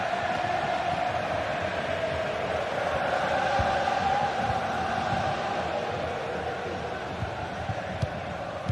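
Stadium crowd at a late stage of a football match, a steady dense roar of many voices that swells slightly midway, loud and continuous with no clear individual words.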